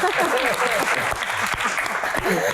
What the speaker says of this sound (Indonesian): Oke, tepuk tangan buat Pak Tahir.